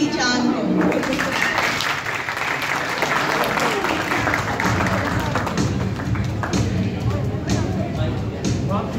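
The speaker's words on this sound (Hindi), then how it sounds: "तो आपकी मेरी सबकी भरपूर तालियों में हम बुलाते हैं" An audience gives dense, continuous applause to welcome a reader at a children's story reading, steady clapping filling the whole stretch without pause.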